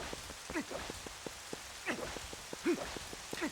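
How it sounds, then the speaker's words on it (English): Rain ambience in Zelda Twilight Princess, a steady soft hiss of rainfall with scattered drip-like ticks and faint tonal chirps, quiet and continuous throughout. "this kind of rainy ambiance can work, but not for too long"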